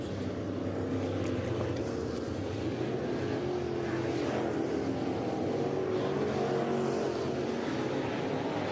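Dirt late model race cars run laps at All-Tech Raceway during a Lucas Oil Late Model Dirt Series event, their engines a continuous, layered roar that rises and falls steadily from mid-distance.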